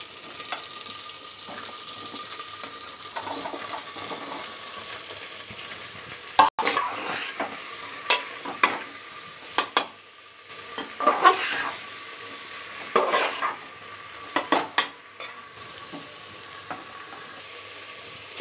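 Green chillies and cucumbers fry in a pan, with a steady sizzle under intermittent sharp clinks and scrapes of a utensil stirring against the pan; no voices.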